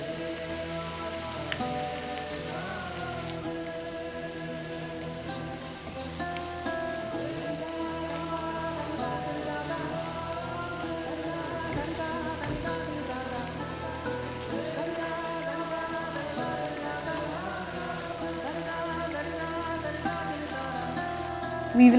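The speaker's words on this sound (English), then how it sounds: "we'll fry up our bread pieces in ghee or clarified butter" Bread pieces fry in ghee on medium heat for Lucknowi shahi tukra, giving a steady, close crackling sizzle that carries on without a break for over twenty seconds, with no voices over it.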